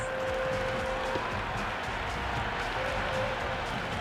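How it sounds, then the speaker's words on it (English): A cricket stadium crowd in the Cricket 26 video game roars for a six, a dense steady wall of cheering and noise at constant loudness throughout, with no clear single claps standing out. "Will you listen to that crowd? They are loving this."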